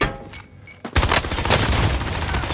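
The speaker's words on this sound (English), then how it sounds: "It was a Cold War MP5 with a laser." Rapid automatic fire from a Cold War MP5 fitted with a laser in Call of Duty Warzone, a loud sustained burst that starts abruptly after a short quieter lead-in.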